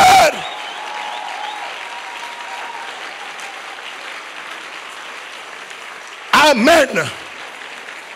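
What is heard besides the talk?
congregation applauding in church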